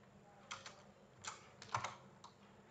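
Someone types on a computer keyboard while writing Python code: a few faint, scattered clusters of keystrokes, quiet and close, with no talking.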